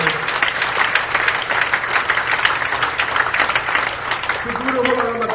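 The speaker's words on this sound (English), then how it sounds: "the best clap of praise to the Lord" A church congregation at a Sunday service gives a sustained clap of praise, loud and even throughout, with a speaking voice entering near the end.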